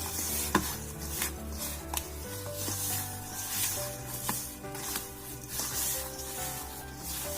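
Pecan tart pastry dough being mixed by hand in a bowl, heard as quiet, irregular scrapes and soft taps against the bowl, close by with no talking.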